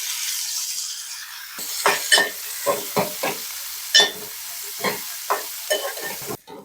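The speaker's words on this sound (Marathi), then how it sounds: "उभे चिरून ते आता आपण भाजून घेऊया थोडं आपण तेल टाकून घ्यायचं आहे" Sliced onions roasting in oil in a pan, a soft sizzle under repeated close scrapes and clinks of a spoon stirring, about a dozen strokes at an uneven rhythm, no voices.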